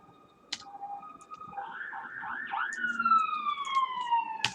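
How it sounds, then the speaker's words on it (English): An ambulance or similar emergency vehicle drives past with its siren sweeping and wailing in a steady rising-and-falling pattern, growing louder over a few seconds against faint background noise. "Sorry about the ambulance, or whatever that is, driving past."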